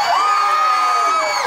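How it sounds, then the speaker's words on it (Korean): A crowd at the Boseong Green Tea Festival in Korea cheers and whoops for the K-pop group KISS OF LIFE. Loud, sustained shouting and high-pitched screams fill the whole stretch without a break. "정말 함성이 뜨겁고"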